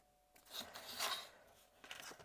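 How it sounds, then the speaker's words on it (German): A scalpel slices once along a ruler through paper while a greeting card is made, giving a faint, brief scraping cut heard close up in a quiet room. "Dann haben wir hier quasi einmal durchgeschnitten"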